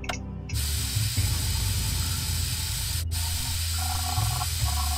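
A spray hisses in the Rizzoli & Isles crime-scene game, starting abruptly after a brief quiet and then holding a loud, steady hiss with a low hum beneath it and a short break near the end.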